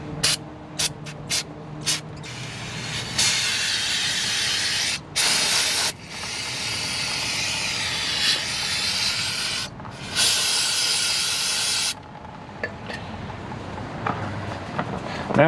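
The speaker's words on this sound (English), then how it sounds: "brake cleaner, and I got me a little 1-inch little chip brush so I can kind of brush all this stuff clean while I'm spraying" Brake cleaner hisses from a spray can in repeated bursts, some short and some held for several seconds, while RV brake parts are brushed clean with a small 1-inch chip brush, close and loud.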